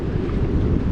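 Outdoor wind near the Tetons, close to Death Canyon, rumbles low and steady against the microphone in a brief, unbroken gust with no voices.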